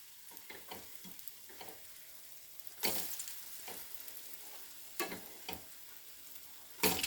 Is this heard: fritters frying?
yes